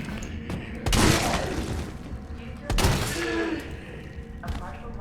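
Shotgun blasts in a zombie video game: two loud booming shots about two seconds apart, each with a short rattling tail, and a faint voice between them.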